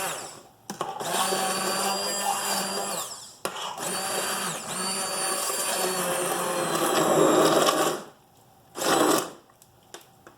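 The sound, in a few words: stick blender pureeing soup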